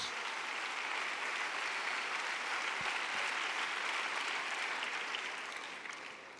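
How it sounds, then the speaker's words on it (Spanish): Sustained applause from a church congregation during a worship service, a steady wash of clapping that holds throughout and tapers slightly at the end, fairly distant and even. "Un aplauso al Señor por todos los que hicieron ese tremendo esfuerzo para estar acá con nosotros."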